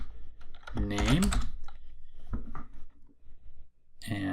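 Quick taps on a computer keyboard sound in brief clusters, near and fairly quiet, mixed in with a person's speech during data work in Power Query.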